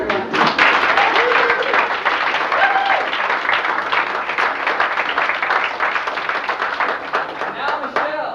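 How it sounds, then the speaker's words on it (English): An audience applauds a model on a fashion show runway aboard a love-themed cruise, with dense, sustained clapping that stays loud and close throughout and fades slightly near the end, while a voice talks over it. "Give her a round of applause, everyone."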